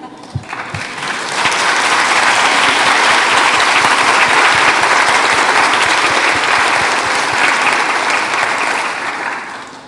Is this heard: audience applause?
yes